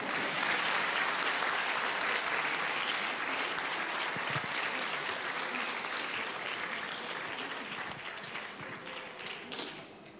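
Sustained audience applause for the Sovice kindergarten group at a kindergarten anniversary celebration in Petrinja, a dense, steady clapping crowd filling the whole stretch and tapering off slightly at the end.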